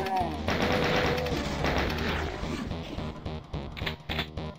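Rapid weapon fire in Doom 2 against shotgunner and chaingunner enemies, a dense, loud rattle of repeated shots with bursts continuing to the end.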